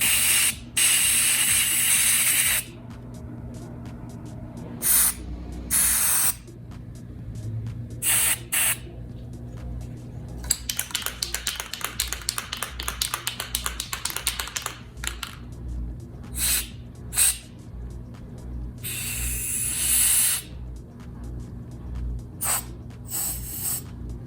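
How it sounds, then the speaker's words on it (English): Lithium grease sprayed into the rubber boot of a BMW 435i F32 side mirror during a teardown, heard as several bursts of aerosol hiss with a run of quick ratcheting clicks in the middle, close and with no talking. "I'm just gonna use some little grease, some lithium grease to put inside this rubber boot."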